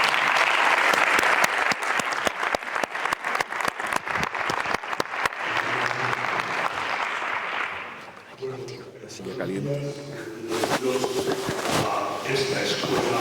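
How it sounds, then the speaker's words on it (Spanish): An audience at a university alumni reunion in Málaga applauds as a speaker heads onto the stage, with loud, dense clapping for about eight seconds that thins to scattered claps while voices murmur and talk. "Sube y te aplaudimos y todo."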